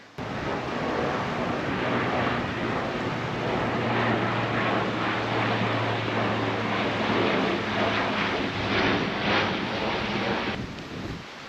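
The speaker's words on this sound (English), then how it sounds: "Another plane. There's gonna be a lot of planes coming through here." An airplane passes overhead above a dry forest, a broad steady roar mixed with wind noise on the microphone that holds for several seconds, then fades near the end.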